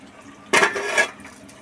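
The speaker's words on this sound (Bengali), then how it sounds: "এর মাঝে কতগুলো বাসন মেজে নিলাম" Dishes being washed under running tap water make a brief, loud splash of water and clatter lasting about half a second, followed by quiet.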